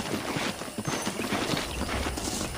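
Horse hooves clip-clop at a steady trotting rhythm in the Western video game Red Dead Redemption, loud and close over outdoor game ambience, with a brief whinny.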